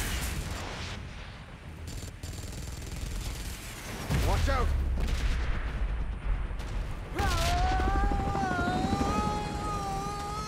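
Aircraft in the video game PUBG Mobile, a loud roaring engine drone with rising whines and bursts of gunfire layered over it, with speech in the mix.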